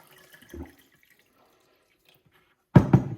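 Water poured from a container onto millet in a bowl, a brief splashing burst near the end following a faint earlier splash and near silence.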